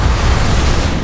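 Horn torpedoes bursting in the video game Beast of Reincarnation, a dense, steady low rumbling explosion that fills the whole brief moment, loud and close with no pauses.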